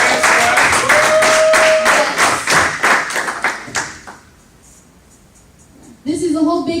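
Audience applause welcoming a guest speaker at a hackathon opening ceremony, a loud burst of clapping and cheering for several seconds that fades into quiet, with a voice resuming afterward.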